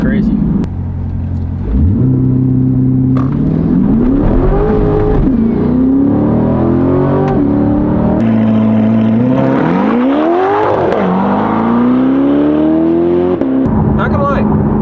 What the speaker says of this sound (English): It's surprising how quiet this car is for having an exhaust.